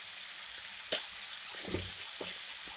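Pizza paratha filling cooking in a pan gives a soft, steady sizzle with a few faint stirring clicks and scrapes. No one talks.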